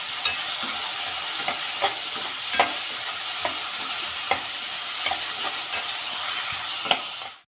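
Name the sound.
tomato and onions frying in pan with turmeric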